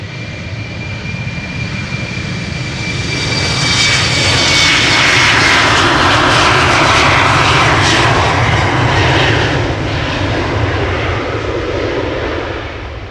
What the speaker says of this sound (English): British Airways going to London City, Embraer 190.